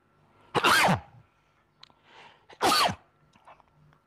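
Two sharp sneezes from someone speaking live, each a loud burst about two seconds apart, with faint murmurs and small noises between them.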